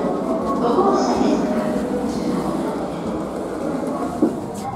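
A terminating train rolls in at a busy Tokyo Station platform, with a low rumble and some clatter, while people talk and an announcement plays over the top.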